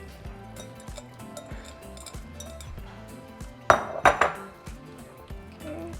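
Metal spoon stirring rinsed hominy into a pot of Mexican beef and bean soup (gallina pinta), with a few sharp clinks and scrapes against the pot between softer stirring sounds.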